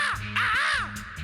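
A voice mimics a crow, letting out a few harsh, rasping caws in quick succession, close and fairly loud with nothing else behind it.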